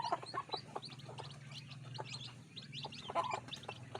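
Bangkok chickens kept in a cage with their mother hen make soft, frequent clucks and peeps close by, a steady chattering flock sound over a low hum, with no one speaking.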